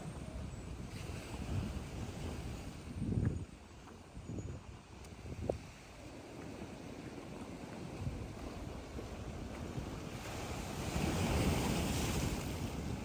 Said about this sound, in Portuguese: aqui é o ponto que a água vem mais forte